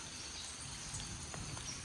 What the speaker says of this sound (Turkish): Hafiften yağmur yağıyor.